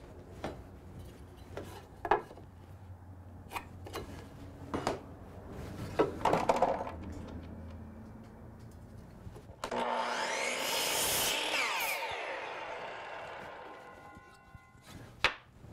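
A saw cuts wood pieces to length for the feet of a plywood yard-game board, with scattered knocks and handling clatter first, then one sustained loud cutting pass and a final sharp knock.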